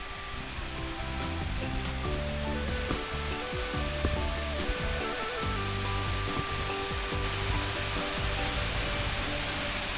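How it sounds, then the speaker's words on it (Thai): Steady rushing water from a waterfall at a Thai temple fills the scene with a loud, broadband hiss, and intermittent low knocks and rumbles sound underneath. "น้ำตกสวยงามพี่น้องเสียงดังสาสาตั้งแต่เสาเลย"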